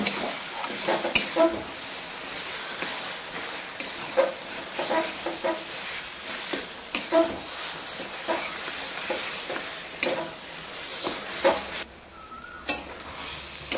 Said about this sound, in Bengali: এভাবে কচুর সাথে মশলাগুলো ভালো করে মিক্স করে দিন